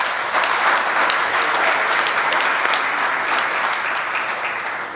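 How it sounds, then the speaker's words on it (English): A crowd at a grand opening ceremony for a veterans affairs office at a senior center claps loudly and steadily, the sustained applause tapering slightly toward the end. "Let's give them a round of applause."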